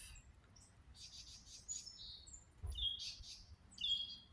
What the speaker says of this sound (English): that's what the birds are telling me